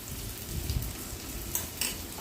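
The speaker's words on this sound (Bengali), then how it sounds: "এবার আমি সব মশলাটা ভালো করে নেড়ে নেব।" Garlic and ginger paste sizzling in hot oil in a pan while spices are stirred for a Bengali fish curry, a quiet, steady frying hiss broken by a few soft scraping stirs.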